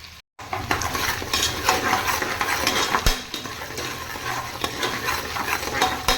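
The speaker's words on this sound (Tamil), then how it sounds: "வெங்காயம் நல்லா பொன்னிறமாக வதங்கட்டும்" Onions sautéing in oil in a pan with a little salt, cooking until golden, give a steady close sizzle broken by scraping stirs and a few utensil clinks against the pan.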